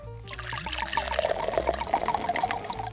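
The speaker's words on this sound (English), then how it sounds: "you're gonna pour some baby oil in there" Baby oil pours into a water-filled ocean bottle, giving a close, continuous glugging trickle with bubbly, irregular splashes that run for a few seconds without speech.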